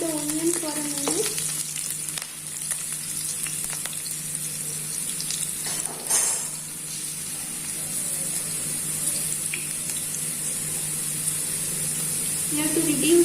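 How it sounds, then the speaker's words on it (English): Onion frying in a pan on the stove gives a steady, soft sizzle throughout, with a few faint stirring scrapes and a brief louder crackle partway through. "we have to fry the onion for a minute"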